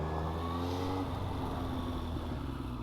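A Yamaha R1 motorcycle engine, just back together after a carburetor cleaning, runs at a steady, fairly quiet idle with an even drone and no revving.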